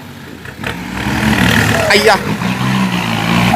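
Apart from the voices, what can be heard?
dump truck engine revving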